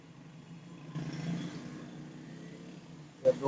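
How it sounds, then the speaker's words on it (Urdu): Roadside traffic hums on a busy street, with a car engine swelling past in the middle and a brief clatter near the end, moderately loud and continuous. "یہ میں روڈ پر کھڑا ہوں اس لیے شور زیادہ آ رہا ہے"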